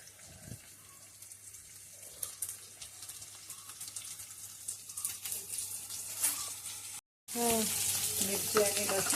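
Coarse-ground green chilli and garlic paste frying in hot tempering oil with onion, a soft, steady sizzle that swells into louder crackling near the end after a brief gap.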